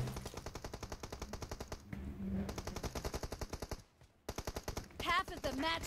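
Rapid automatic gunfire in the PUBG Mobile battle royale game, long rhythmic bursts of loud shots with a brief pause and a sharp tail sound at the end.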